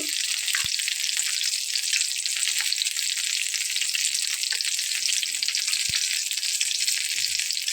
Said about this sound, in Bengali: বন্ধুরা তো আমি আরও একটু লাল করে ভেজে নেব।